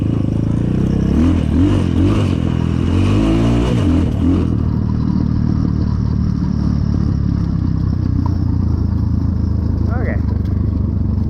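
An Apollo 250rx dirt bike engine revs and putters close by on a trail, rising in short bursts early on, then settling to a steady rumble while a person talks over it.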